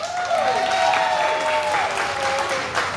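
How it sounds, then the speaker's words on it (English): A crowd applauds steadily for a few seconds, with some overlapping voices and whistle-like tones mixed in. "big round of applause for Gary Davis"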